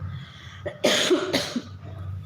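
Two sharp coughs in quick succession, fairly close, with a quiet low hum in the background.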